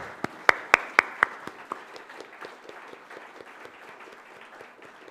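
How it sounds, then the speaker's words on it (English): Applause from an audience at a college inauguration event, opening with a few sharp, close claps that settle into softer, steady crowd clapping which gradually tapers off. "Once again, a huge round of applause."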